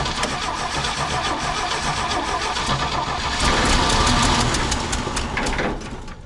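A 1968 GMC pickup truck, brought back after 27 years sitting in a field, cranks loudly and close up, catches and revs for a few seconds before the engine sound drops away.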